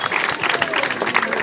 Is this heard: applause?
yes